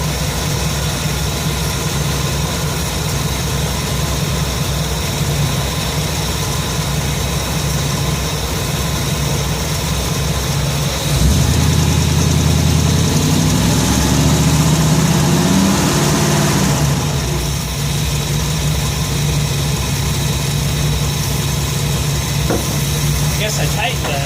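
A Ford 302 V8 in an F100 pickup idles at around 600 rpm, a steady low rumble with a brief rise in level midway, under occasional speech.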